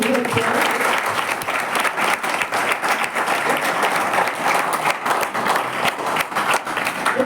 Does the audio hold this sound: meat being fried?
no